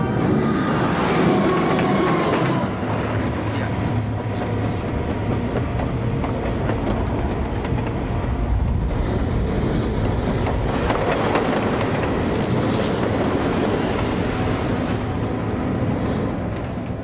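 A train rolls along steadily with a continuous loud rumble and rhythmic clatter of wheels on track, heard from inside, with faint squeals now and then.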